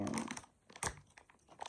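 Plastic packaging around a small glossy figurine crinkles and crackles in close, irregular bursts, with one sharper tearing snap in the middle.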